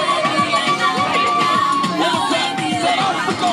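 A large South African crowd cheers, shouts and whoops together in a loud, continuous roar, with children's shrill voices mixed into the dense noise.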